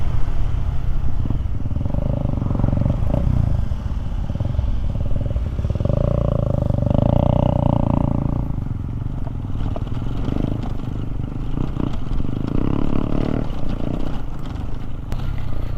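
A Honda CRF Rally motorcycle rides a limestone trail near Klapanunggal, Bogor, its engine a steady, close drone that rises and falls with throttle over rattles and scrapes from the rough track.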